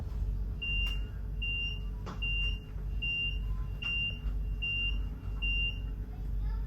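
Alarm aboard the Channel Tunnel shuttle: a train of seven short, evenly spaced electronic beeps, clear and moderately loud over a low rumbling background hum.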